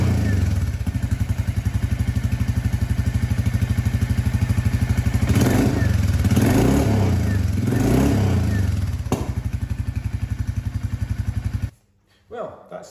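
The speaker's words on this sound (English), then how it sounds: "give it a wee rev, see what happens." A Royal Enfield Classic 350 single-cylinder motorcycle thumps at a steady close idle, then revs up in a few rising blips before dropping back and cutting off near the end, with a voice speaking briefly.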